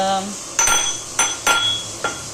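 Garlic cloves crushed for raw mango pickle, four sharp clinking pounding strikes in a steady rhythm, close and clear with no talk.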